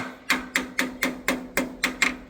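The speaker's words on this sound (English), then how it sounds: "Going to see if we can tap this starter in submission." A hammer taps on the starter motor of a 1947 Farmall A tractor: seven sharp metallic knocks in an even, steady rhythm, close and fairly loud with nothing else heard.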